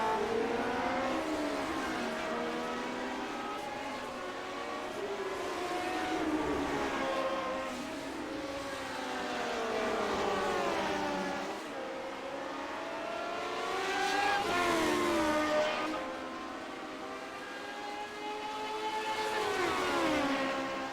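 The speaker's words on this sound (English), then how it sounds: "Glorious screaming engines." High-pitched engines of Lotus 79 racing cars in the iRacing video game wail steadily and rise and fall as the cars rev and shift, loud and continuous with no voices.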